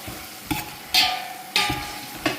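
Brinjal sautéed in a pan for a mutton curry with lentils: about four distinct stirring strokes, each a bright scrape over a soft, steady sizzle, close and fairly loud.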